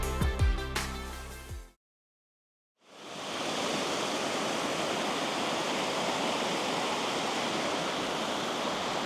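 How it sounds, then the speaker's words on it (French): After a brief burst of music and a moment of silence, a steady broadband rush of a small mountain river on the Puy de Sancy, France, fills the scene, constant and close. "Petite rivière vivifiante avec son air frais."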